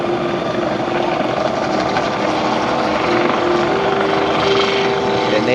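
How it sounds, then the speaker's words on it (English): A US Coast Guard helicopter drones steadily and loudly nearby at an airshow, its rotor chop and engine whine holding constant, with a slight rise in pitch toward the end. "the helicopter, and here we go, starting to ease into forward flight."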